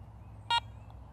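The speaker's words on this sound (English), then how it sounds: "press the power button and hold for about 1 second until you hear that second beep" A single short electronic beep from the power button of a Garrett ACE 400 metal detector sounds once, clear and brief over a quiet low background hum.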